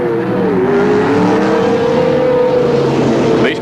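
A field of sport sedan and GT race cars at the 1983 Australian Grand Prix sets off on a warm-up lap, engines droning loud and close with a steady, slowly rising tone throughout.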